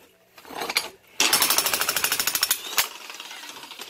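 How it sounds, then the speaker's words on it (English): A Harbor Freight jackhammer breaks up a concrete floor during foundation underpinning: a short burst, a pause, then a loud, steady run of rapid hammering blows that stops abruptly, with no talking. "Busting the floor up, getting it done. Harbor Freight, jackhammer,"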